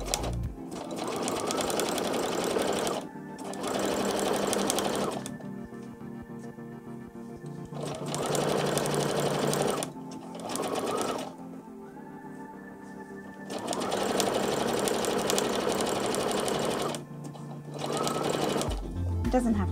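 A sewing machine stitches elastic onto a PUL nappy cover in several bursts of rapid mechanical whirring, stopping and restarting, heard up close with a person talking between and over the runs.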